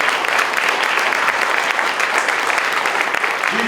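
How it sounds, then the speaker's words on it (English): A crowd at an Ohio political rally gives the sheriffs a big round of applause, steady dense clapping filling the whole stretch at close range, with no speech over it. "can we give the sheriffs a big round of applause here?"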